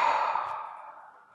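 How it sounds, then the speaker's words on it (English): A person draws a deep, relaxing breath during a guided relaxation exercise, a single close, airy exhale that starts fairly strong and fades gradually over a second and a half, with no talking. "Go ahead and relax and take a breath."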